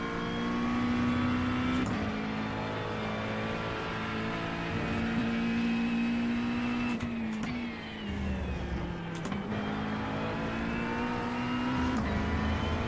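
A McLaren GT3 race car engine in iRacing screams at high revs, with several sharp gear shifts and dips as it brakes and accelerates, loud and continuous throughout, no voices.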